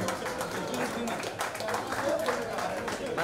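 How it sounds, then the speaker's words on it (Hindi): An audience at a cricket team jersey launch in Mumbai clapping in a steady round of applause, with talk and crowd murmur mixed in. "तो इस बात पे जोरदार तालियां धर्मेश भाई के लिए."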